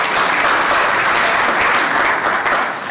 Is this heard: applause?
yes